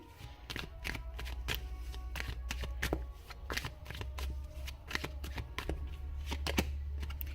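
Tarot cards riffled and shuffled by hand in a fast, irregular run of crisp slapping flutters, close and fairly loud, with a low steady hum underneath and no talk.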